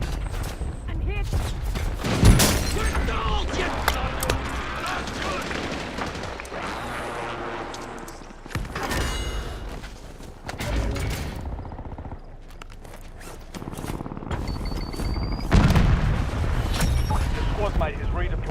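Precision airstrike explosions in Black Ops 6 Warzone, with a rapid run of loud blasts and gunfire-like bursts that recur in several heavy waves over game sounds and radio voices.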